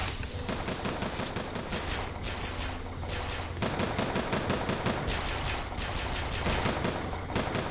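Rapid gunfire from the video game Bioshock Infinite, sustained bursts of automatic shots crackling steadily throughout, loud and dense with no pause.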